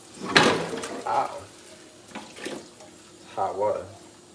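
Scalding hot water runs from a tap into a sink in uneven splashing bursts, with a person's voice and breathy exclamations mixed in over the flow.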